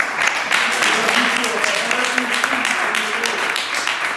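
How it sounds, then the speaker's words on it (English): An audience claps at an education competition event, a steady, dense wash of applause holding at constant loudness throughout with no pauses. "I just want to give you all a hand clap for showing up"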